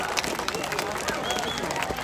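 Audience applause for a third-place winner at an Igorot festival in Edmonton, a dense steady wash of clapping with crowd babble mixed in, loud and sustained throughout.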